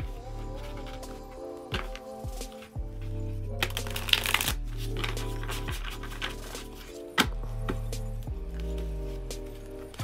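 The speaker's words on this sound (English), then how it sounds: "The cardstock is not the thickest, but it's nice for shuffling." A new deck of Catten Candy Nightmare playing cards by Phantasmeow is repeatedly riffle-shuffled and bridged up close, with several crisp riffles separated by short pauses, taps and handling noises.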